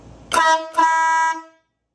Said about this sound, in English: We know air horns aren't for vanity, air horns are for safety.